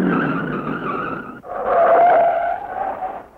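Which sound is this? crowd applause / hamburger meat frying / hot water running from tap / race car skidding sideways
race car skidding sideways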